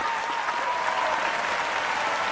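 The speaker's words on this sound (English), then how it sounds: "The folder happens to be full of different types of applause" Steady applause from a crowd, dense continuous clapping at an even level throughout, with no pauses.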